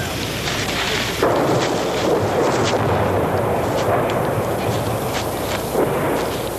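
Artillery fire pounding ground about 100 yards from infantry near Hill 943 in Vietnam War combat footage, a continuous loud rumble with repeated thudding blasts and a sharper impact near the start.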